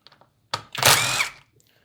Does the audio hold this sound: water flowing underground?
no